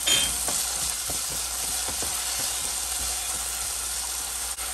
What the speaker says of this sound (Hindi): मिर्च हल्की सी हो जाए तब हम डालेंगे ये कटे हुए आलू।